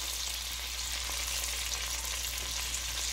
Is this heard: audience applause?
no